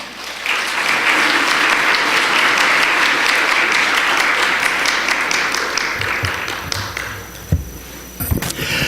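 Church congregation giving a loud round of applause to welcome a visiting pastor, dense continuous clapping that thins toward the end, followed by a few thumps and taps from the front.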